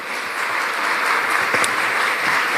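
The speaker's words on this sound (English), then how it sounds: "Another big round of applause for our Governor General." Audience applause for the Governor-General at a national youth consultative conference: a dense, steady wash of crowd clapping at fairly loud level, continuous for the whole short stretch with a few distinct sharper claps.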